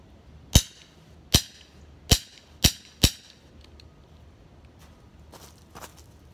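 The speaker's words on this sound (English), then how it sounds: "Now we do airsoft, which might be a little more powerful." Five sharp airsoft shots fired at a pumpkin, evenly spaced snapping pops about a second apart, close and crisp, then faint small knocks afterward.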